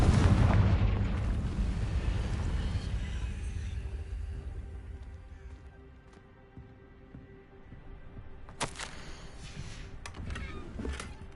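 A Confringo spell explodes in the video game Hogwarts Legacy: a loud blast opens and fades into a long rumbling tail, followed near the end by a few sharp crackling bursts.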